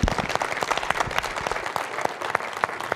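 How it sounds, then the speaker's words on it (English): Conference audience applause, a dense, steady wash of many hands clapping throughout, fairly close and even in loudness. "So big round of applause for organizers because they are doing amazing"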